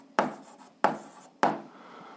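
Pen or marker strokes as an equation is written out during an 8th-grade algebra exercise: three short, crisp scratches spaced about 0.6 seconds apart, each fading quickly, close and alone with no talking.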